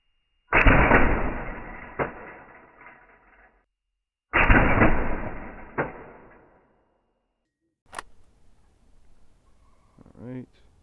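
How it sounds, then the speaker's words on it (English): Charging handle of a WE-Tech M4 airsoft rifle with a stuck nozzle, pulled back twice with loud metallic clacks and rattling slides, followed by quieter handling clicks. "it's not staying forward at all whenever I charge this"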